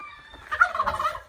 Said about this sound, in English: you've probably heard my chickens